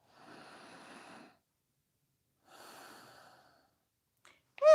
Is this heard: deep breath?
yes